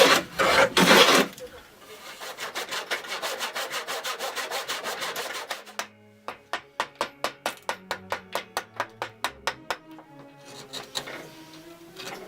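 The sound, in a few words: hand plane smoothing wood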